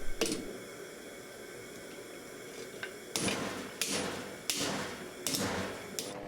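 Sharp metal hammer blows strike the bent jaws of old, rusty pliers to straighten them: a few scattered taps, then a cluster of loud, ringing hits close by.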